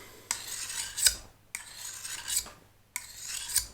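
An old pleaching billhook is drawn across a diamond sharpening stone in three rasping strokes, each a close, gritty scrape of about a second with a short pause between.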